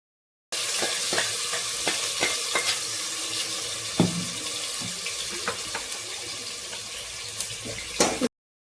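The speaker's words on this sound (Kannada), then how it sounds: "ಮಸಾಲೆ ಎಲ್ಲ ಹಾಕ್ಕೊಂಡು ಅದು ಒಂದು ಸ್ವಲ್ಪ ಎಣ್ಣೆ ಬಿಡುವವರೆಗೂ ಅದನ್ನ ಒಂಚೂರು ಫ್ರೈ ಮಾಡ್ಕೋಬೇಕು" Ground masala frying in oil in a pan for a Muslim-style bagara khana (rice dish), a steady close sizzle with repeated scraping and stirring clatters and a few sharper knocks, no voices.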